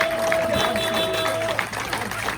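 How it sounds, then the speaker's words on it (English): Rally crowd applauding and cheering for Mark Warner at a get-out-the-vote event, a dense, steady wash of clapping and crowd noise that continues throughout. "So give him a big round of applause, Mark Warner"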